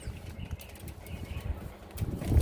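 Several visiting parrots flap their wings in short bursts with a few soft chirps, close and moderately loud, no talking.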